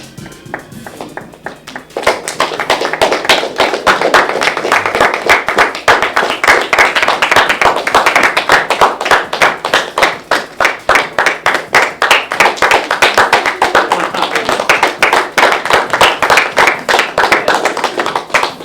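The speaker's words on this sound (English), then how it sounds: "I think the clapping helps" Steady, rhythmic hand clapping sounds close and loud, keeping an even beat for nearly twenty seconds after a brief quiet start, with no talking over it.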